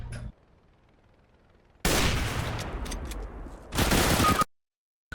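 Gunfire in the video game CS:GO comes in two loud, sustained bursts of rapid shots, separated by quieter moments and ending in sudden silence.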